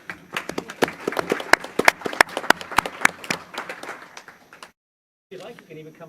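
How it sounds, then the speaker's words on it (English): A city council meeting audience claps for veterans, a few seconds of sparse, distinct, uneven hand claps that thin out toward the end, then a brief silence before a voice speaks. "why don't you stand and we can just give you a round of applause"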